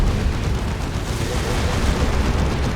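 Manticore rocket artillery from the Warhammer 40,000: Dawn of War 2 game pounds the battlefield in a dense, continuous rumble of overlapping explosions and booms, loud and unbroken throughout.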